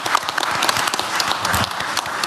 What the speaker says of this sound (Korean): 지금 박수를 칠까요?